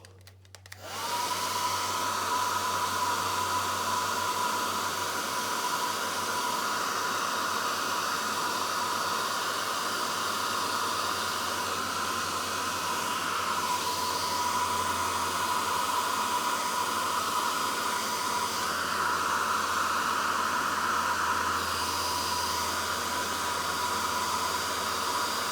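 A heat tool blows hot air onto crayon wax with a steady, loud whooshing hiss that starts abruptly and runs unbroken to the end, with no voices.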